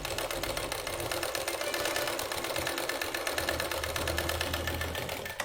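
A sewing machine stitches a blouse with a steady, continuous mechanical whir and rapid needle chatter, close and fairly loud throughout with no pauses.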